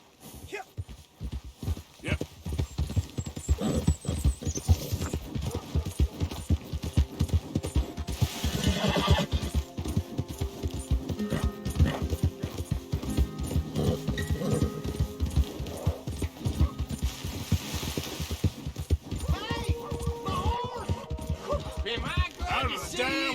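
A horse's hooves clip-clop in a quick, rhythmic gait in Red Dead Redemption 2 gameplay, steady and close throughout. A horse whinnies once along the way, and brief spoken dialogue comes in over the hoofbeats.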